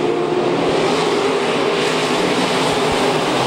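Sport mod dirt-track race cars rev up together at the start of a B main, a loud, steady wall of engine roar that holds without a break.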